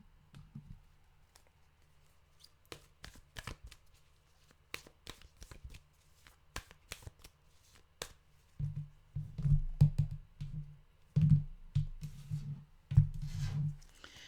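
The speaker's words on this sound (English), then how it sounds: "let's turn to the cards" Tarot cards shuffled by hand, close and fairly quiet: scattered soft flicks and riffles first, then a run of louder, quick shuffling bursts near the end, with no talk.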